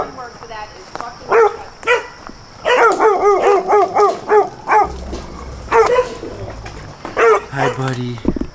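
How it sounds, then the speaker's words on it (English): An emaciated dog barks loudly and close, in short bursts and quick repeated runs of sharp barks, with faint bird calls in the background. "look at this dog."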